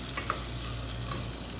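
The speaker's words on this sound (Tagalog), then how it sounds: "magigisa tayo ng sibuyas, bawang" Chopped onion and garlic sauté in hot oil in a pan, a steady close sizzle with faint stirring scrapes, no voices.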